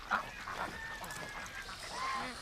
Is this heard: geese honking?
yes